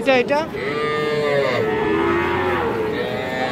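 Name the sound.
bull calf mooing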